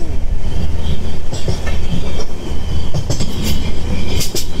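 A Vistadome tourist special train runs from NJP to Alipurduar, heard as a loud, continuous rumble with rhythmic clickety-clack of the wheels and brief metallic squeals, recorded close from aboard.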